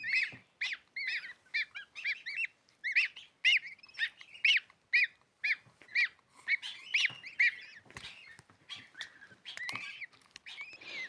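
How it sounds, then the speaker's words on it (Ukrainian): Newly hatched goslings peep in a goose egg incubator, a dense run of shrill, rhythmic close calls repeating rapidly throughout with no talk. "Народжується, народжується гусенятко."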